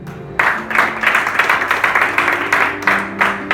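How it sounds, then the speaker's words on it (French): A congregation applauds during a French church sermon, a sudden burst of steady clapping starting after a brief pause and continuing evenly at moderate loudness. "Est-ce qu'on peut applaudir s'il vous plaît?"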